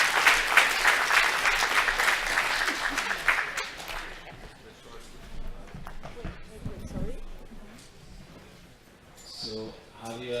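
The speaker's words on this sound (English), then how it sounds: "Applause, please." Audience applause at a defence hackathon's final pitch session fills the opening seconds, loud and dense, then dies away into quieter room noise and scattered sounds.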